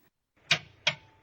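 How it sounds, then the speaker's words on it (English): Two sharp, quiet clicks about a third of a second apart from the high-voltage relay of a 2010-2015 Toyota Prius, isolated in near silence. "This is the operating sound of the high-voltage relay."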